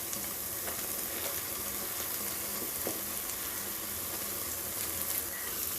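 Beaten eggs hiss and crackle steadily in a hot pan for capsicum egg masala, a dense, close frying sound that runs unbroken and fairly loud throughout, with no voices.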